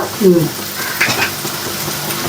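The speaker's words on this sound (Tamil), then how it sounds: "இஞ்சி பூண்டு இந்த அளவுக்கு வதக்கணும்." Ginger and garlic sauté in an oily pan for a home-cooked chicken curry, a steady soft sizzle with a brief stirring scrape, while a voice talks over it.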